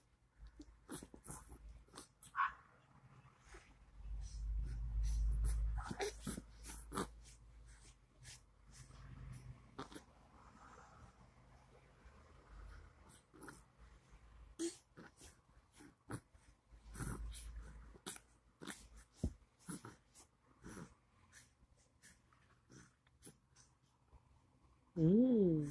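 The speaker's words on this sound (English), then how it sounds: "You hear the dog outside barking." A dog barks outdoors, faint and distant, in scattered sharp yaps and short bursts across the clip, mixed with nearby breathing and mouth sounds from someone indoors.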